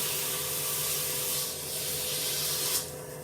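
Steady close-up rubbing of 220-grit sandpaper across a wooden surface, a continuous hiss that rises and falls slightly with each pass, heard alone without talk.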